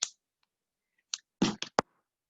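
Scissors snipping crochet yarn, a few sharp close clicks and a short crisp cut in near-silence, no voices.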